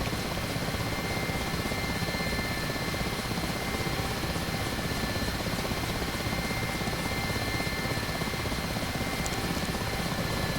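Mi-8 helicopter in flight in the DCS World simulator, a loud, constant rotor and turbine roar with steady whine, heard close as from the cockpit, unbroken for the whole stretch with no talk.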